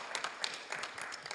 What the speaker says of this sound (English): So let's give Southgate another big round of applause.